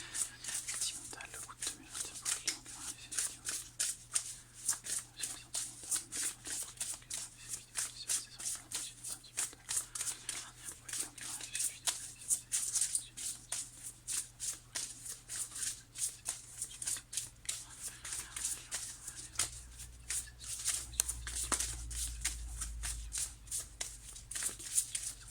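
Lenormand oracle cards being shuffled by hand for a love reading, a steady run of soft papery riffles and slaps lasting the whole stretch, with a low hum underneath and some quiet whispery sounds.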